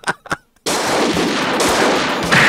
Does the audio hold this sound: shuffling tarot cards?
no